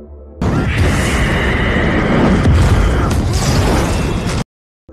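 A fiery explosion in a film erupts as a sustained, roaring blast of fire that rumbles heavily for about four seconds, loud and dense, then cuts abruptly to silence.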